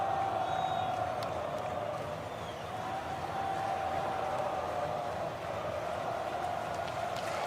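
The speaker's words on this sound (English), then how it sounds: "The crowd is going absolutely crazy." Steady crowd cheering and roaring at a marble race, a continuous moderately loud wash of voices with no clear breaks.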